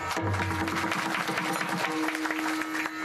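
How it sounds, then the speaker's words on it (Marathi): Audience applause for the organizers at a kirtan gathering during a Vitthal Rukmini week-long religious festival in a village, a steady patter of many hands over a low sustained tone, moderately loud and continuous. "आयोजकासाठी एकदा टाळी वाजा"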